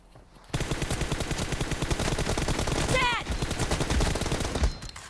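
Rapid automatic gunfire in the PUBG Mobile battle royale game, dense continuous bursts of shots filling nearly the whole stretch, loud and close, with a brief rising whistle-like effect in the middle.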